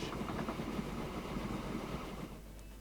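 Low rumbling train in the video game Train Fever running steadily at a distance at about 30 km/h, a muffled engine drone with faint rattling, fairly quiet and continuous.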